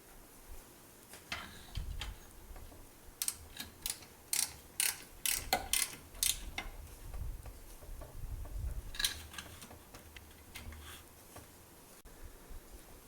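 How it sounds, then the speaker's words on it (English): A 12mm ratchet with a short socket tightening the lower belt adjuster nut for the AC belt tensioner on a Subaru: quiet bursts of rapid clicking ticks, several runs spread across the clip, with faint low rumble beneath. "grab our 12mm ratchet and our short socket and tighten down that nut on the bottom of the adjuster"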